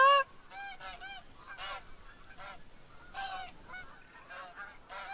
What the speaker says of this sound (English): I hear the geese coming in.